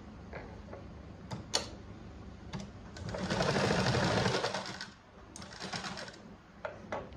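Motorized sewing machine, powered by an electric motor rather than a foot treadle, stitching fabric along a garment neckline in short bursts with a longer steady run in the middle, close and clear, no talking.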